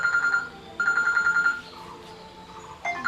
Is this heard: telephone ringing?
yes